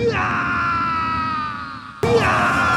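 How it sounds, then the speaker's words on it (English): A long, sustained scream from the boxing anime Ashita no Joe, a strained voice holding a high pitch with a brief break before it cries out again, loud and clear rather than distant. "a scream heard in the distance"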